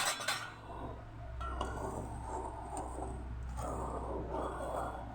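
Utensil stirring sugar into milk in a pot while making sweet yogurt, producing steady clinks and scraping against the pot under a low background hum, with no talking.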